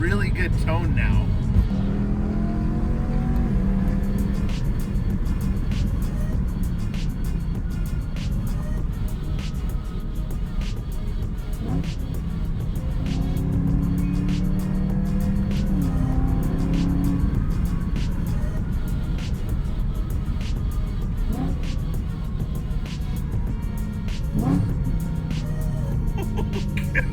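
A BMW E90 M3 with an Alpine Stage 1/2 tune and a throttle actuator fault revs and pulls hard, the engine note rising and falling under steady road noise while someone talks.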